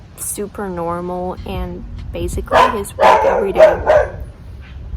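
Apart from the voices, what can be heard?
dog barking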